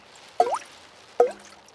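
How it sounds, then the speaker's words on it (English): Two separate cartoon water drips fall from a leaking school roof during rain, each a short plinking drop spaced about a second apart against quiet. "It is raining and the school roof is leaking again."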